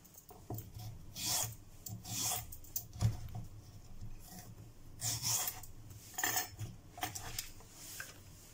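A carrot sliced into strips on a board, quick rasping knife strokes coming in separate bursts at an uneven rhythm, close and fairly quiet, with no voices.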